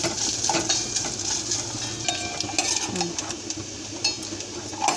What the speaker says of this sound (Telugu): బాగా కలర్ వచ్చే వరకు వేయించుకోవాలి కొబ్బరి ముక్కలు